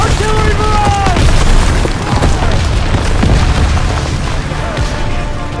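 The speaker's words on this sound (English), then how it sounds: "Get down! Artillery barrage!" Artillery barrage explosions in the World War II shooter game Call of Duty: WWII, a loud sustained rumble of deep booms and blasts with overlapping impacts, layered over shouted voices.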